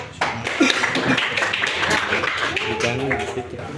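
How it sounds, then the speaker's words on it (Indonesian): A classroom group claps hands together, a brief burst of scattered applause with voices mixed in. "Ya, tepuk tangan dulu."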